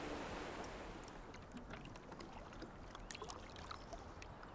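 A canoe on river rapids in the Scottish Highlands, with a constant roar of rushing water and wind buffeting the microphone, and a few splashes and knocks over the steady wash.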